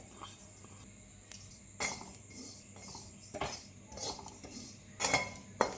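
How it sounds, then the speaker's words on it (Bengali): Sesame seeds dry-roasting in a heated pan, heard as quiet, close scraping and light metallic clinks of a spatula, coming in scattered strokes over a low background. "এটা আমি একটু ভেজে নিব তিলটা"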